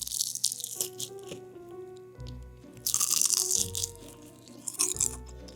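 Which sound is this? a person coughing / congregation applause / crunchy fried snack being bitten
crunchy fried snack being bitten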